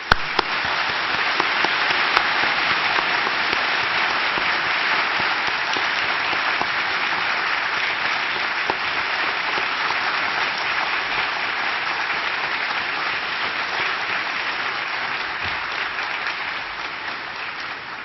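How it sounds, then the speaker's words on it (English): Steady, dense audience applause at an optics society award ceremony, a large hall crowd clapping continuously for about eighteen seconds with little variation. "Please join me for a very warm round of applause."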